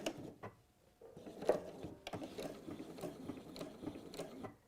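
A sewing machine stitches thread in fast, uneven mechanical bursts, quiet and close, with no talking over it.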